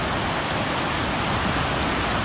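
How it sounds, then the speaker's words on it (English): A storm-flooded creek flows in a steady, dense rush of water, close and continuous with no pauses. "the creek is actually flooded a little."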